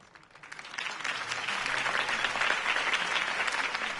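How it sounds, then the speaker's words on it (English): Crowd applause after a campaign speech in the Batman Telltale video game, a dense wash of clapping that swells in the first second and then holds steady and loud to the end. "could have heard that applause"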